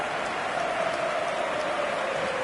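Broad, steady stadium crowd roar fills a football match in the eFootball 2025 video game, a dense sustained wash of cheering with no pauses, heard alone throughout.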